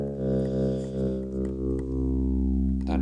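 A synth bass patch on a Korg NTS-1 with chorus effect plays a deep sustained tone that pulses and wobbles gently, loud and alone for about three seconds.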